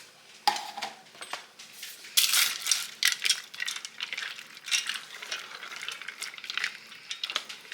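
Egg noodles being stirred into a pot of boiling chicken noodle soup, with close, irregular clinks and metallic scrapes of a utensil against the pot over a soft bubbling background, without speech.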